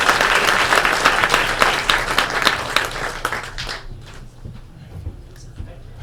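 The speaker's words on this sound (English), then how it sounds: "Big round of applause." Applause from an audience at a spacecraft propulsion presentation rings out as loud, dense clapping, then thins and fades to scattered claps by the end.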